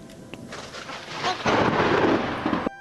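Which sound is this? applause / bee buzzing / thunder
thunder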